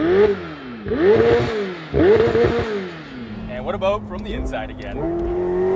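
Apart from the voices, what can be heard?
McLaren 750S car center exit exhaust engine sound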